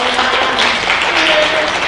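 Audience at a school of nursing white coat ceremony applauding the faculty, a thick continuous roar of clapping heard close and loud for the whole short stretch.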